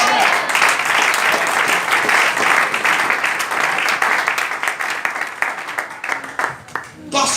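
A church congregation applauds and cheers for the Lord with loud, dense clapping and raised voices that thin out and become more scattered toward the end.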